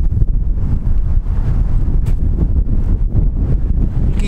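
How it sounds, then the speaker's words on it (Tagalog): Strong outdoor wind buffets the microphone, a loud continuous low rumble with gusty surges and no speech. "Ayan mahangin."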